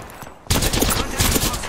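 After a brief quieter lead-in, rapid automatic gunfire bursts loudly and close in an Apex Legends match, a dense rattling fusillade that continues to the end.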